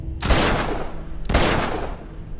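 Two heavy gunshot blasts roughly a second apart, each with a long reverberant decay, fired in the Uncharted 2: Among Thieves video game; loud and close with no talking.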